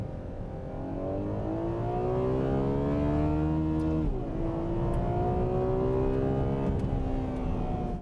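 A 6.5-litre naturally aspirated V12 engine revs hard, climbing in pitch, dropping briefly as it shifts, then climbing again, loud and close with a smooth whine.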